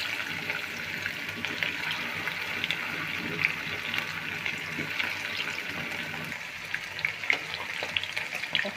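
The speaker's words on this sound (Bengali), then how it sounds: "এখানে আমি চিকেন ফ্রাই করবো" Chicken frying in oil in a pan, a steady close sizzle that holds throughout with faint crackles and occasional stirring scrapes.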